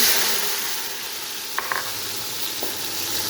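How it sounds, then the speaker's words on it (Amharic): Onions frying in a pan give a steady, loud sizzling hiss throughout, with a couple of brief clinks of a utensil partway through. "ሽንኩርቴ ተቆላልቶልኛል።"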